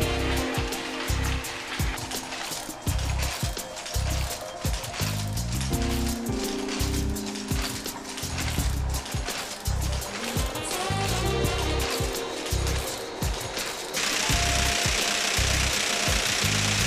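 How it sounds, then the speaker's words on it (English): Historic machinery in an old wool blanket factory runs loudly and continuously, with a steady rhythmic clatter and pounding beats over a dense mechanical roar. There is no talk. "The wool had to go through a big, loud series of machines"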